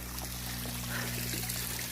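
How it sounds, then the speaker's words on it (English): A small waterfall trickles out of rock beside a mountain trail, a steady close splash and dribble of water running through the whole stretch with a low hum beneath it. "We got a little waterfall coming out of the rock."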